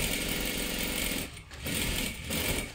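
A sewing machine runs along the folded edge of a dress hem in close, rapid bursts of stitching, with two brief pauses between runs and no voices.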